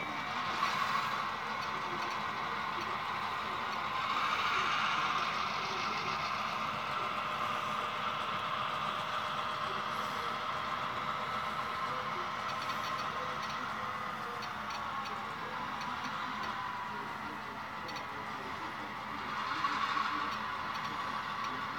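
Simulated locomotive engines idle and drone steadily in a train simulator game, switching cars on a line, with a low continuous hum and faint ticking mechanical sounds, swelling slightly around the middle and near the end.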